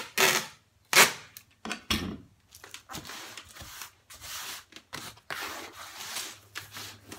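Packing tape rips off the roll in sharp, uneven bursts and is pressed onto a cardboard shipping box to hold it shut, the loud tearing strips separated by short quiet gaps and softer handling noises.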